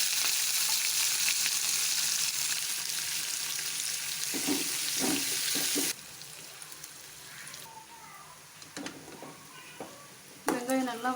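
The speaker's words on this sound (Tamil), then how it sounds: "வெங்காயம் நல்லா வதங்கிடுச்சு" Onions sauté in hot oil with mustard seeds and dried chillies, a loud dense sizzle with stirring clatter that drops away sharply midway and leaves quieter pan noises, a brief voice and a final clatter.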